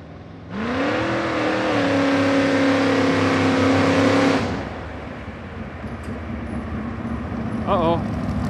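A mid-engine Chevrolet S10 truck approaches and passes close by, its engine revving hard in a loud, rising roar that holds for several seconds and then fades as it moves away, with brief voices near the end.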